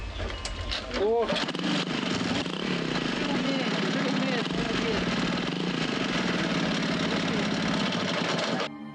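A motorcycle engine idles steadily and loudly close by for several seconds, a continuous mechanical rumble with a brief rising rev near the start before cutting off at the end.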